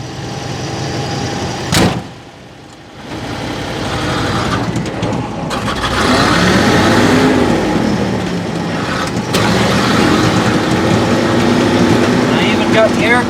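A 1953 Ford F800 truck engine runs steadily with an air cleaner fitted during a ride, a continuous broad drone with a brief dip near the start, close and loud throughout.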